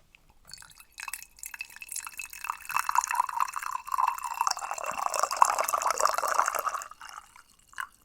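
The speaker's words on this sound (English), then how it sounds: "We're going to pour it out into the fairness pitcher." Brewed Dong Ding oolong tea pours in a steady, close trickle into a fairness pitcher for about six seconds, then tapers off into a few drips.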